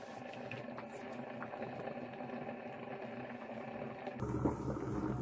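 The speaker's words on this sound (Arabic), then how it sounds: "وهسه نتركها تفور على نار" Water with roasted red peppers boils in a pot over a stove flame, a faint low bubbling and rumbling hiss that continues steadily, growing a bit louder and busier in the last second.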